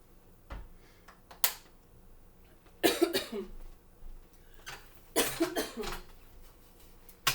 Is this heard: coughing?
yes